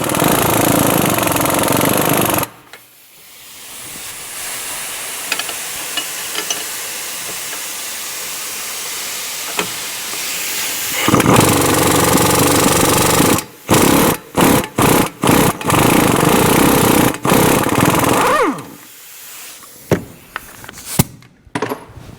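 A power tool with a 21mm socket runs on the strut-to-knuckle bolts of a Chrysler Town & Country. A steady, loud whirring hiss lasts several seconds, then stops and starts in a series of short bursts.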